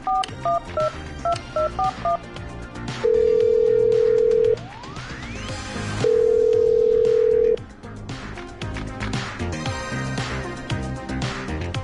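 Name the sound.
telephone dialing and ringing in Killer Frequency video game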